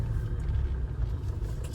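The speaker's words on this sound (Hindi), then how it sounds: "ऐसा ट्रैफिक चल रहा है ऐसा।" Steady low rumble of a car moving slowly through heavy city traffic in Lucknow, heard from inside the vehicle, a constant close engine and road drone with no voices.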